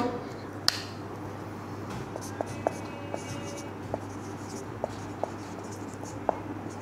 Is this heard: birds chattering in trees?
no